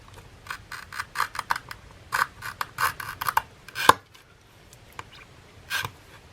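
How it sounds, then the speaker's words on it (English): A glass cutter scoring around a piece of glass laid over a paper template, a series of short, sharp scratchy rasps in uneven bursts, close and fairly quiet, with pauses between strokes. "and score around it with a glass cutter."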